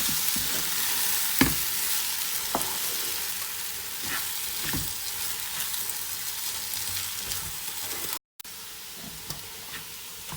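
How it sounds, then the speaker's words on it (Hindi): Bread crumbs halwa stirred in a pan, a steady bright sizzle with occasional spoon scrapes and taps against the pan, close and continuous apart from a brief dropout near the end. "और इसको अच्छे से हिला लेंगे।"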